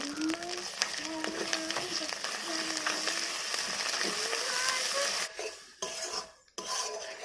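Spice paste of ground melon seeds, cashew and poppy seeds sizzling in a pan, a steady hiss with scraping stirs and utensil clinks, a voice speaking over it.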